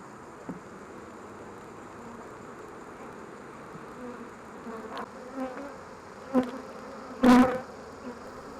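Honey bees buzz around an open hive during a frame inspection, a steady close hum with a few louder passes as bees fly near, one sharp buzz standing out toward the end.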